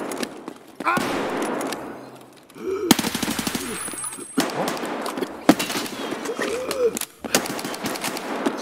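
Gunfire in the Escape from Tarkov video game, with sharp, loud bursts of automatic shots and single cracks scattered through the clip, some close and some farther off, with people talking between the shots.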